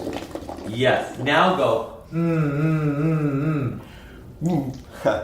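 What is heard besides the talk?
humming into a straw, blowing bubbles into water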